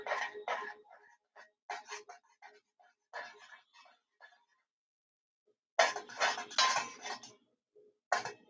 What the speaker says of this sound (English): Just going to give it a little stir